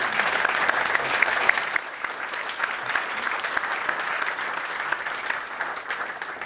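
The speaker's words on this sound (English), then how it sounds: "Please give the speakers applause" An audience at a parcel delivery networking meetup applauds the speakers. The clapping is steady and fairly soft, with a denser burst early that thins slightly but carries through the whole stretch.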